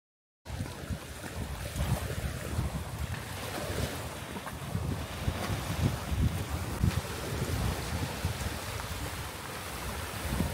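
Steady wind and rushing water from a boat crossing choppy sea to Taha'a, French Polynesia, with buffeting wind noise on the microphone throughout.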